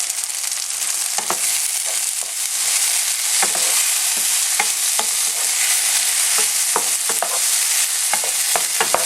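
Sliced garlic and fresh herbs hit a pan of sautéing aubergine, giving a loud, continuous sizzle broken by scattered clicks and scrapes of stirring throughout.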